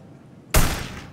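A single sharp gunshot in Hitman: Blood Money blasts something open, one loud close burst after a quiet lead-in, trailing off into a ringing, noisy decay.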